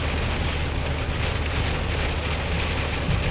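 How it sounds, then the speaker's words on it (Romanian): Heavy rain pours steadily on the road and a moving vehicle on a drive through Bihor county, a dense, even roar with a low rumble beneath it throughout. "Da, asta da ploaie."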